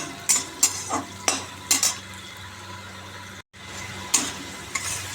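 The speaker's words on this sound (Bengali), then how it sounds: "তারপরে মশলাটা দিয়ে দিই সাঁতরিয়ে নিয়ে জল দিয়ে দিচ্ছি" Spices for a fish curry sizzle in a pan while a utensil scrapes and clinks against the metal in several sharp strokes, over a steady frying hiss that briefly cuts out.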